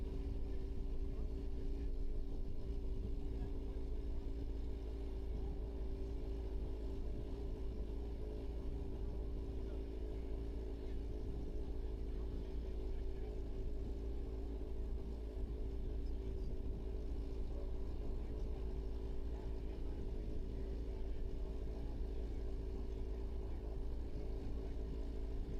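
A racing motorcycle makes a speed run on the El Mirage dry lake, its engine a steady, sustained drone held throughout at moderate distance with a constant low rumble and no pauses.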